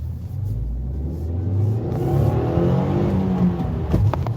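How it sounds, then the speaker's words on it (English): A 2020 Subaru WRX engine surging as the clutch is let out too early, a loud rumbling judder with rising engine drone inside the cabin, steady and continuous. "It's just letting out the clutch a little early and it just really shook."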